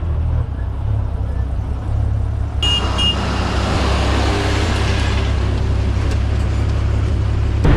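MSRTC Thane–Shirdi bus pulling into the busy Thane bus station, its engine rumbling low and steady close by while traffic noise and faint activity build around it.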